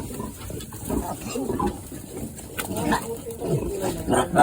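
Frightened piglets squeal and grunt in a series of short, irregular bursts, some close and sharp, mixed in with people talking nearby.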